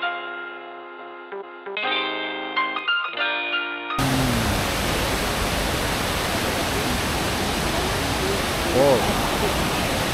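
Golden Waterfalls in Taiwan send up a loud, continuous broadband rush of falling water that starts abruptly after a few seconds of music, with brief voices around it.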